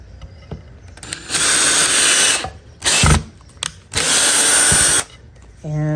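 A power drill drives high-hardness Phillips-head #8 wood screws in four loud, close bursts of whirring with short pauses between them. A brief voice comes in at the end.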